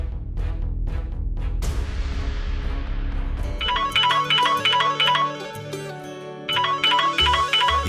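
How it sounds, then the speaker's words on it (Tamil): Phone ringtone of an incoming call in a Tamil TV drama scene, a repeating electronic melody that starts midway and rings in steady bursts, loud and close, after a swell of dramatic background music. "என்ன சாரதா ஃபோன் பண்றா?"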